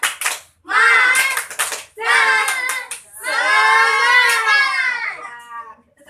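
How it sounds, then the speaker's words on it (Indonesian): A class of sixth-grade pupils in an Indonesian classroom does a rhythmic spirit clap (tepuk semangat), with loud bursts of clapping and children chanting together in three energetic phrases. "coba tepuk semangat dulu ya"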